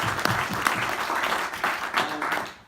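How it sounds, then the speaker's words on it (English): Crowd at the CryptoCon conference applauds, a lively spread of many clapping hands with a few louder individual claps and some cheering voices, tapering off at the end. "So give yourselves a round of applause, please."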